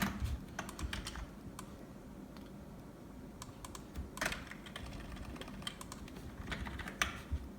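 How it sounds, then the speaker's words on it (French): Rapid clicking of keys on a computer keyboard, irregular bursts of typing up close over a low background hum, no talking. "il fait tout avec le clavier."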